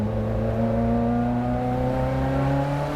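A sports car with a gated manual shifter runs its engine in a steady, loud, close-up drone with strong low harmonics that hold throughout with little change in pitch.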